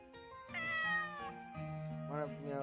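A cat meows in the horror video game Corpse Party Book of Shadows: two drawn-out, close, clear meows with a rising-then-falling pitch, heard alone at moderate loudness.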